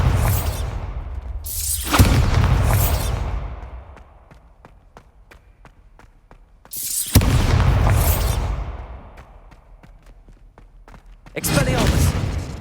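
The Bombarda blasting spell in Hogwarts Legacy goes off three times, each a sharp booming burst with a whooshing rush, separated by quieter gaps dotted with faint ticking clicks.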